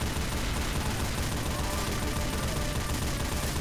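Dense, continuous gunfire from the video game Left 4 Dead, with steady overlapping shots forming a loud unbroken wall of noise for a few seconds, no voices heard.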